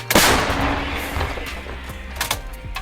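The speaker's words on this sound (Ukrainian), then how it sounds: "Постріл!" A single heavy M777 howitzer blast booms close by, followed by echoing rumble and a couple of sharp metallic clanks and thuds.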